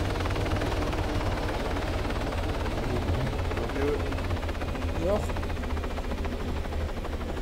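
A police helicopter in the game Arma 3 Altis Life hovers nearby as a constant loud rotor drone and whine, with someone speaking briefly over it.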